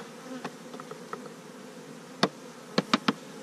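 Steady insect buzzing of honey bees drones throughout during a colony cutout into a nuc box, with a few sharp clicks and taps near the end.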